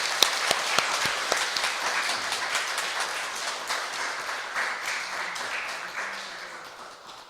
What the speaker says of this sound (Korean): 큰 박수로 환영하며 모시겠습니다.